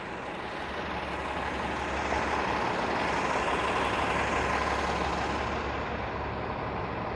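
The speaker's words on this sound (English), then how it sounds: "it looks like we've got a rather long line of buses here on Dufferin Street." A long line of buses idles on Dufferin Street in Toronto, producing a steady, dense low engine rumble with broad traffic hiss, constant and fairly loud throughout without talk.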